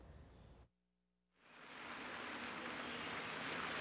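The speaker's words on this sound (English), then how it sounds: "I hear the water is peaceful, the birds." Water flows outdoors in a peaceful natural setting, a soft, steady hiss that drops out briefly near the start and then returns, continuing quietly and evenly without speech.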